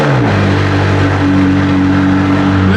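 A McLaren 675LT Coupe engine roars steadily and loudly up close, a deep raucous rumble holding through the whole stretch with rising harmonic tones, no talking over it.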